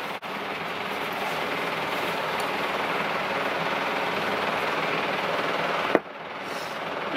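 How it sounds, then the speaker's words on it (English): A steady, broadband whir of an electric fan runs continuously and fairly loud, with a brief click near the end. "Sorry about the fan"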